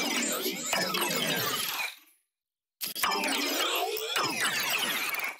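Color bass synth drop run through a frequency shifter and delay, dense and bright with shifting tones, cutting out abruptly to silence for under a second before slamming back in and continuing loud to the end.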